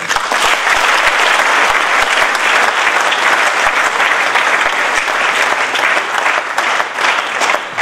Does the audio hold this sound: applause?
yes